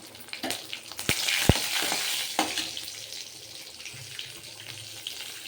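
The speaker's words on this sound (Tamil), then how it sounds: "சீரகம், கருவேப்பிலை, பூண்டு நறுக்குண்டு போட்டு நான் வதக்கிட்டே இருப்போம்" Cumin, curry leaves and chopped garlic sautéing in a pan, a steady sizzle and hiss with a few sharp clinks of a utensil near the start, fading slightly toward the end.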